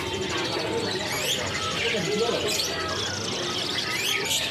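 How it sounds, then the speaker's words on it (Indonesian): Caged canaries at a bird market chirping in quick high trills and tweets, mixed with dense crowd chatter and steady market bustle throughout. "Dan ini dari stok untuk kenari seri AF-nya ya."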